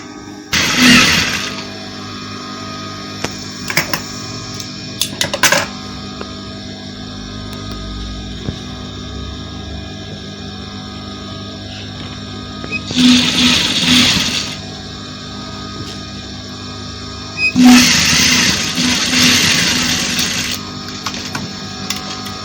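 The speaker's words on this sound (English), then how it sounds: "I just want to stitch on top of it" A sewing machine stitches through layered fabric of a panel dress in a few separate runs, each a loud close whirring burst of a second or more, with quiet pauses and small handling clicks between.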